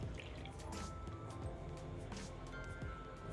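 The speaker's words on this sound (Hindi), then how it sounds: "इसमें पानी डालेंगे।" Water is poured into flour and mixed while kneading dough in a kitchen, a quiet wet squishing and dripping with soft irregular splashes, close and faint.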